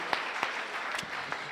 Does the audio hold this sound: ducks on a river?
no